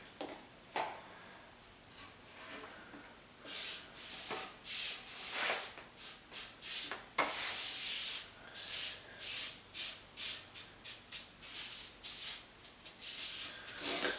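Excess finish is wiped off a wooden guitar hanger in soft, quiet rubbing strokes that come in uneven bursts, close by and alone.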